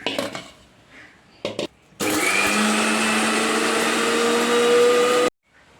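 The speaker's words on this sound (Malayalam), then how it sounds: "നമ്മൾ തേങ്ങയും മുളകൊക്കെ നന്നായി അരച്ചു" A mixer grinder grinds coconut and chillies for a roasted-coconut mango curry, starting with a few clattering knocks, then roaring into a loud, steady whir for several seconds before cutting off abruptly.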